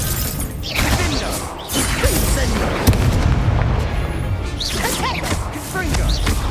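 A spell cast in the video game Hogwarts Legacy during a dueling match: a whooshing burst of fire with a sharp impact, set among busy combat effects, background music and a low rumble that continue throughout.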